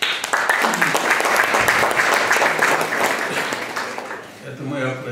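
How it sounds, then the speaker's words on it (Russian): An audience at a centenary tribute in Cheboksary to the poet Kaisyn Kuliev bursts into full, steady applause. The clapping fades near the end as a voice begins speaking. "Это мы аплодируем на"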